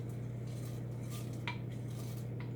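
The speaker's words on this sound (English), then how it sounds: "So the rice is boiling pretty good right now, so I'm going to go ahead and add my vegetables." Frozen vegetables go into a pot of boiling rice for Mexican-style rice, heard as soft clinks and clatter of a utensil against the cookware over a steady low stove hum, quiet and without talk.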